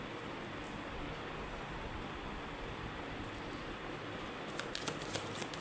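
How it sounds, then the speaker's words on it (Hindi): Tarot cards are shuffled in a single quiet, continuous riffle, a soft papery rustle with a few light flicks near the end and no voices. "एक शफल, ओके।"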